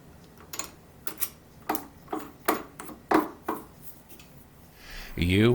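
Nail driven into wood with a hammer during a large wooden clock build, pre-drilled with a 1/16 inch bit: about eight sharp, close taps spaced irregularly, ending in a brief rising scrape.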